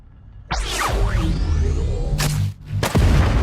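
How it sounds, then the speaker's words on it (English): Rocket whoosh and explosion effects from the Hyper Light Breaker video game: a loud rushing launch with swirling tones, then heavy booming blasts and crashes, close and alone. "that explosion has really got a sort of like a nice realism to it"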